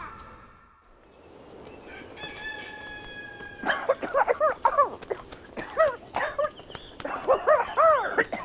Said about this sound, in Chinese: 这狗叫的吓人不？ 那么惨的叫的啊？